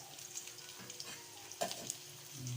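A pot of paksiw stew simmers and bubbles softly, with faint crackling and sizzling pops close by and no talking.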